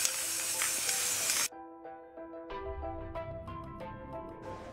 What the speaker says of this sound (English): I'm just going to spray the blade black with this black spray paint